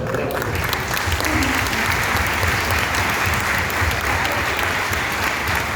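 A large audience at an evening lecture applauds loudly and steadily, a dense, continuous roar of clapping that stays even for several seconds.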